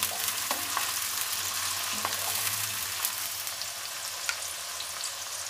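Sliced onions sizzle steadily in hot oil in a pan for veg fried rice, a close, continuous hiss with occasional faint crackles and light stirring.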